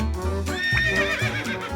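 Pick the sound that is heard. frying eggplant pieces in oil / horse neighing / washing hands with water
horse neighing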